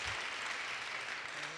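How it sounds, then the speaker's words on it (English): Brief burst of audience applause at a climate change policy presentation, a continuous wash of many hands clapping at moderate distance, steady and unbroken for under two seconds. "give her a big applause."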